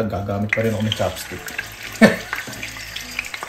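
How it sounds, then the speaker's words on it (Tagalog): Thinly sliced beef sizzles as it is stir-fried for a Filipino-style beef stew, a steady close frying hiss with chopstick clatter while a person talks over it. "stir-fry din po natin itong baka karne po maninipis ang hiwa"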